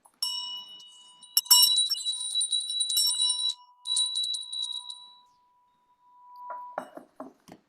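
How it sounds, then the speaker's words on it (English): A bell rung at an online education leadership forum event: bright metallic strikes with long ringing tones that sustain and decay, a few separate rings, followed by a short burst of faint clinks near the end. "Now let's ring the bell"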